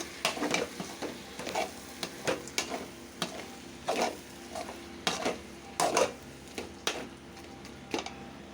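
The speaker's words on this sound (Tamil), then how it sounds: "கொஞ்சம் தயிரும் ஒரு பாதி லெமனும் போட்டு நல்லா வதக்குவோம்" Masala with tomato, curd and half a lemon sautéed for a jackfruit biryani, rhythmic spatula scrapes and clinks against the pan over a soft sizzle, repeating about every half second.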